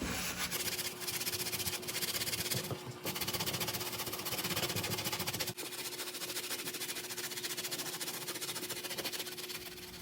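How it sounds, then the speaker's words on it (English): A medium texture brush scrubs dirt from the mesh upper of a Chanel sneaker, making steady, close, raspy rubbing strokes over a faint constant hum, with a brief pause partway through. "I'm going to go ahead and switch to a medium texture brush so I can just really go ahead and get in there and get the dirt out"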